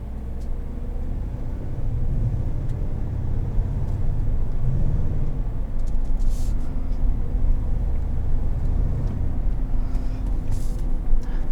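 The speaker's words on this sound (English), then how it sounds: "go ahead, go for a drive" A 2020 GMC Yukon XL Denali full-size SUV cruises along with a steady low road rumble and engine drone heard from inside the cabin, with faint ticks and clicks over the top and no talking.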